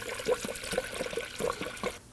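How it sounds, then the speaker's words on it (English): Coolant pours through a funnel into a 2016-2020 Kia Sorento 2.4L radiator, making a close gurgling, bubbling trickle with irregular glugs for about two seconds. "And using the recommended manufacturer's coolant, we're gonna go ahead and fill it up"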